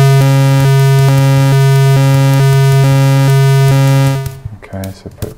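A VCV Rack synthesizer oscillator set to square wave switches on and off in a regular pulse over a steady low drone, loud and close, then stops as a voice begins.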